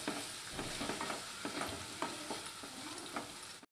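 Ginger, garlic and green chilli paste frying in hot oil for veg momo filling, a dense continuous sizzle with light spoon-stirring taps, close and steady, with no talking.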